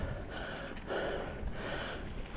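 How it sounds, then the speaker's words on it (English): A mountain biker breathes hard and loud at close range after climbing a steep fire-trail hill at Mt Cotton, with rough gasping inhales and exhales over constant outdoor noise. "and more heavy breathing"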